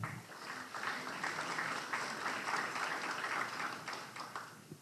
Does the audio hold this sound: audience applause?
yes